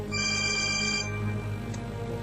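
Electronic telephone ringtone sounding in a domestic drama scene, a steady repeating tonal ring that stays fairly loud throughout, with a background hum and no talk over it.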